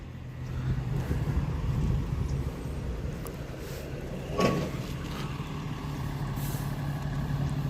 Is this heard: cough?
no